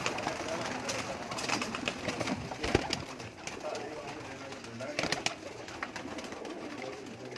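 Pet pigeons of a Ladwane breed coo softly and repeatedly at close range, with wing flutters and small scuffles now and then, while someone talks over them.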